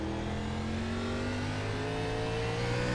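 A NASCAR Xfinity race car in the iRacing sim at Martinsville, its engine droning steadily at partial to full throttle with rising pitch, loud and continuous with no talk.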